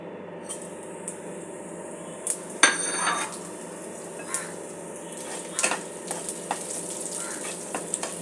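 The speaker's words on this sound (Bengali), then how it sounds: "কয়েক সেকেন্ড একটু ফোড়নটা ভেজে নেব" Panch phoron and a dried red chili frying in hot oil for a tilapia jhal, giving a steady soft sizzle with a few scattered clinks and taps of a spoon against the pan. No one speaks.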